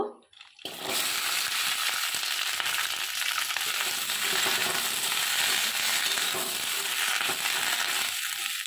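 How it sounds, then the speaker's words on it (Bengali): Spring onion stalks and beans fry in a little oil in a wok. After a brief quiet start, a loud, dense, steady sizzle crackles without pause, close by, with no talking. "এখানে পেঁয়াজ কলি আর সিম আমি রেখেছিলাম, ওইটা একটু হালকা করে ভেজে নেব।"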